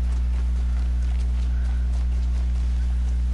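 Horse hooves clip-clop at a steady walking pace in the Horizon Zero Dawn video game, the soft repeated steps fairly faint beneath a loud, constant low hum, with no talking.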